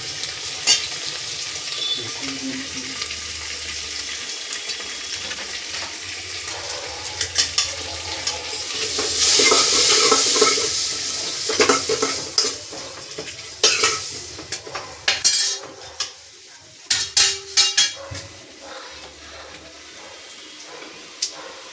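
Turmeric stirred into eggplant bharta in a pan: a continuous sizzle under repeated scraping and clinking of a utensil against the pan, growing busier and more percussive toward the end.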